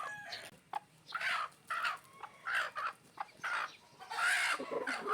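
A mother hen, a Lemon 84 breed, gives repeated loud, close clucks in short bursts with brief pauses between them. No voices are heard.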